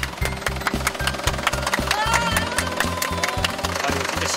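An old bus's engine runs with a heavy, steady low knocking throb, loud and close, with no talk over it.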